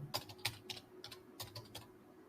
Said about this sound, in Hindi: I have to press add semicolon and enter